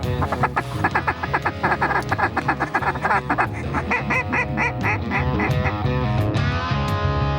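Ducks quacking in a dense, continuous chorus during a waterfowl hunt in Steele, North Dakota, many overlapping calls close by and fairly loud, with a few honks mixed in.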